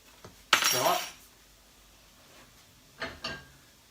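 Whole spices tumble into a heavy-based pan over low heat, giving a sharp clattering rattle near the start and a few lighter clinks later, close and fairly loud in an otherwise quiet kitchen.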